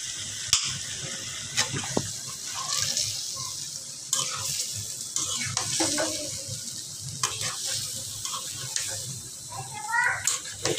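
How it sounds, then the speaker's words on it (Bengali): Biryani masala sizzling and frying in a pan while being stirred, with scraping and clattering strokes at irregular intervals over a steady hiss, close by. "এটা আমি এখন ভালোভাবে কষিয়ে নিব।"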